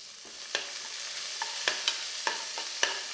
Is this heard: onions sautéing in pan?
yes